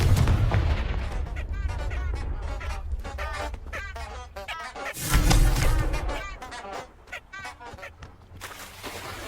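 Confringo spell explosion in the video game Hogwarts Legacy: loud booming blasts and crackling combat effects layered with game sounds, with a heavy burst around the middle, dense and continuous.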